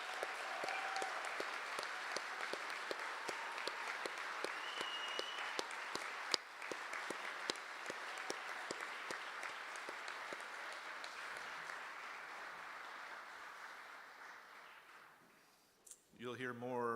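Gala audience at the Laura Baker Services Association 2022 Finding Hope Gala applauding volunteers and staff, sustained crowd clapping filling the room for many seconds before tapering off, with a voice returning at the end.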